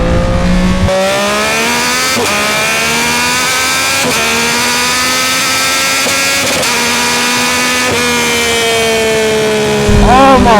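A 2025 Yamaha R9 fitted with a Dominator GP3 full exhaust revs repeatedly, rising and falling in loud, near sweeps, alone with no talking.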